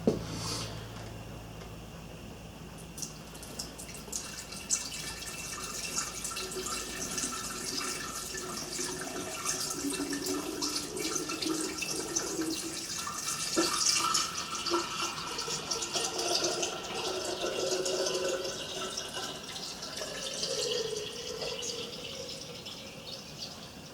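Water pours from a pitcher into the water hopper of a Briggs & Stratton 5S engine, a continuous soft splashing and trickling that lasts the whole stretch, swelling midway, with no talk over it.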